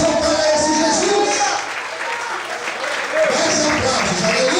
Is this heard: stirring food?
no